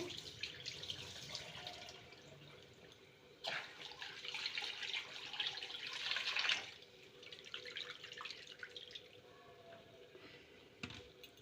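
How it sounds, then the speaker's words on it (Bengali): Small mourola fish being washed in a bowl as the water is changed, with tap water running and splashing in bursts, louder pouring in the middle, and soft drips and sloshing between. "এরপর আমি সুন্দর করে ধুয়ে নেবো বেশ কয়েকবার জল পাল্টে পাল্টে ধুয়ে নিতে হবে"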